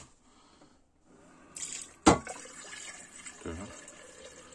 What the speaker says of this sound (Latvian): Ieliesim ūdeni iekšā.